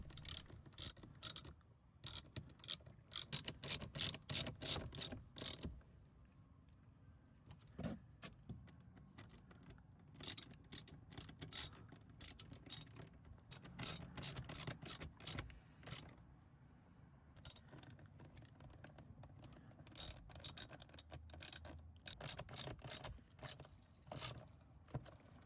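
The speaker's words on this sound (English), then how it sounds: "we'll add the 3 T20 Torx screws back to the speaker and tighten them down" Quiet, close ratcheting clicks come in repeated bursts as three T20 Torx screws are driven in and tightened on a BMW 3-Series front passenger speaker, with short pauses between the bursts.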